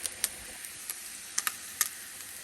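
Flautas sizzle in an overheated pan, a steady bright hiss broken by sharp scattered pops and crackles, close and moderately loud.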